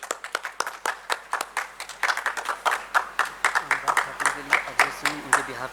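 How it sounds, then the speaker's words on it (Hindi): Clapping from the audience at a blood-donation award function as an honoree comes up, distinct individual claps in an uneven rhythm, moderately close, while a voice talks over the clapping for much of it. "आ रहे हैं, तालियां।"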